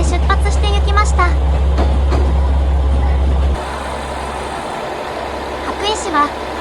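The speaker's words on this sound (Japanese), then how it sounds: "停車時間中に普通電車が金沢に向けて出発して行きました。" A local JR West train pulls out of a station toward Kanazawa, a steady low rumble that drops off midway. Voices and station announcements carry over it.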